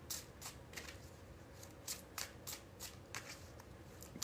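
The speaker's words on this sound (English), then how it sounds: "We're about to do the bridge shuffle." Tarot cards riffled in a bridge shuffle, a run of quick crisp riffle bursts repeating at a steady rhythm, close and clear, with no talking.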